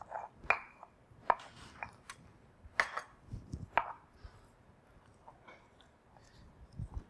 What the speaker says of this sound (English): So you start mashing all the corn.